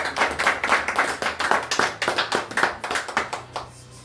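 A church congregation at a worship and praise service clapping in praise of the Lord, a loud, steady rhythmic clap with many hands in unison, fading slightly at the end.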